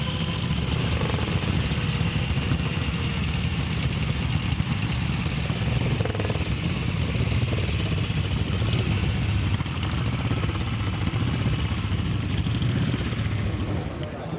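Gold Star racing motorcycle engine on a recreation of the Walt Handley Empire Star, a steady loud rumbling run with clattering mechanical noise, constant and close throughout.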